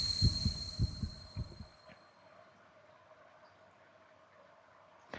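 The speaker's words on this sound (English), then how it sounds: "Heartbeats." Heartbeat effect from the horror video game Death Mark: a few low, thumping double beats at the start, fading out and leaving a quiet hum with faint high tones.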